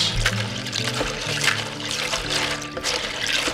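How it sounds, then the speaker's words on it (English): Pine nuts washed by hand in a bowl of water: continuous sloshing, trickling and splashing, close and steady, with no talk. "So what we do is we get some water, put it in a bowl, and then we just wash."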